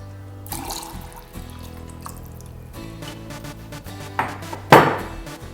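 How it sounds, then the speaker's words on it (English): Smirnoff vodka poured into a glass holding tomato juice for a Bloody Mary, a close, steady liquid trickle with a brief clink of glass near the end, no talking. "So I'm going to pour in 60 ml of my Smirnoff vodka."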